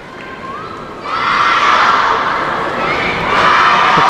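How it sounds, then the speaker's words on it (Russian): Chinese fans in an arena crowd chant and cheer in unison at a doubles table tennis match, a loud sustained roar that swells after a second and carries on strongly to the end. "Китайцы кричат одно и то же."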